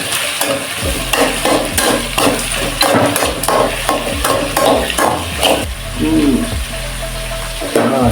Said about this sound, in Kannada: ಕ್ಲೀನಾಗಿ ಒಗ್ಗರಣೆ ಮಾಡ್ಕೊಳ್ಳೋಣ.